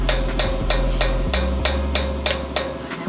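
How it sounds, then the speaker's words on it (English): A hammer strikes a part on a 1986 Ford F-150 during a brake rebuild, about ten evenly spaced, sharp metallic blows ringing close over a low steady hum, with no talking. "Hammer that in there."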